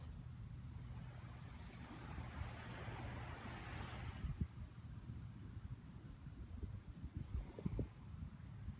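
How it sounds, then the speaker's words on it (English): Ocean surf rolls steadily with a low rumble and wind, one wave swelling louder midway before easing back to a constant wash. "As you hear the waves in the background"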